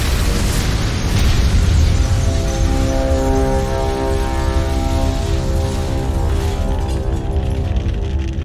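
A loud, sustained explosive roar from a Steven Seagal film rumbles heavily in the low end with droning tones layered over it, fading slightly toward the end.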